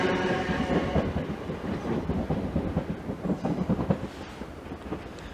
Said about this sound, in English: the 1053 Greater Anglia service from Cheshunt to London Liverpool Street